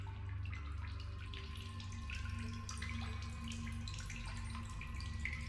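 Water runs steadily from a water source in the survival video game Solus Project, a continuous close splashing stream like a tap filling a basin, with no talking.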